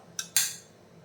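A spoon clinks twice against a pot while stirring moringa leaves, dal, onion, tomato and masala with water, two quick metallic taps close by, then quiet.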